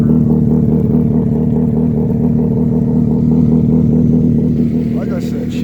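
A cold 2004 Honda CBR1000RR Fireblade with a Brothers exhaust idles steadily up close, a loud even engine drone with a faint rattle running throughout.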